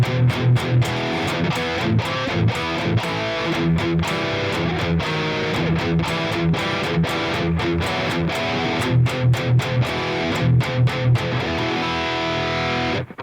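Distorted electric guitar through a dry, tight high-gain channel plays a main riff, loud and chugging with steady palm-muted rhythm and no reverb or delay, solo with no other instruments.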